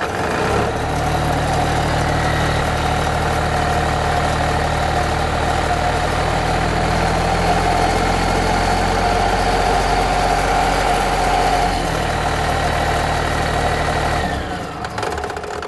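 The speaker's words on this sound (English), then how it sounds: "Start the pump, and then you can throttle it up to the pressure you want." A fire pump engine runs steadily and loudly for about fourteen seconds with a deep, constant drone, then drops away near the end.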